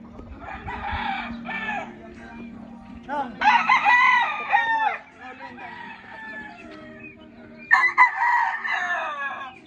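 A pure Kanawayon henny-line gamefowl broodcock crows loudly and close several times in drawn-out calls, with softer clucks and low murmuring voices between crows.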